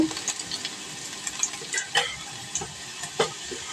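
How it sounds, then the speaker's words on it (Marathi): Sliced garlic frying in a pan for dal tadka, a soft sizzle broken by irregular stirring clicks and light scrapes of a spoon against the pan. "इथे मी लसूण टाकली"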